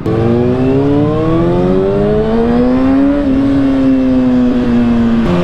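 A 2020 Kawasaki ZX6R motorcycle engine revving hard while riding, a loud close high-pitched whine climbing steadily in pitch, briefly easing, then holding high.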